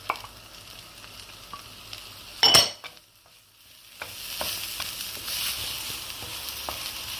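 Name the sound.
onions sautéing in a frying pan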